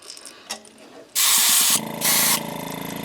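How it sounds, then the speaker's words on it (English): Createx Transparent Orange paint sprayed from an airbrush in two loud bursts of hissing air, close up, after a moment of quiet clicks and handling. "And I'm going to spray back to front so I don't overlap too much of the other."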